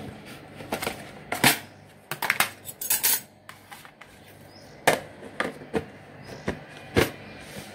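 Dried spoons being put away in a home kitchen, a series of sharp metallic clinks and clatters at irregular intervals, close and fairly quiet, with brief pauses between handfuls.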